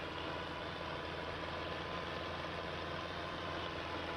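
A tractor engine idles steadily in Farming Simulator 22 on a hayfield in Stitzer, Wisconsin, a constant low rumble at moderate level with no variation and no voices.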